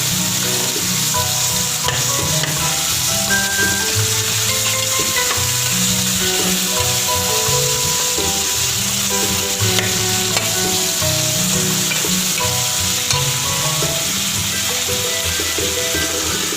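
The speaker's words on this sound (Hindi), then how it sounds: "हमारा चिकन फ्राई हो रहा है" Chicken frying in a pan for chicken macaroni makes a continuous loud sizzle, with stirring scrapes and faint kitchen tones underneath and no talking.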